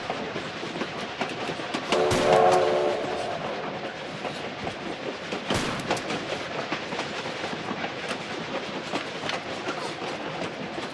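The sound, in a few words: train running in the video game Tomb Raider 4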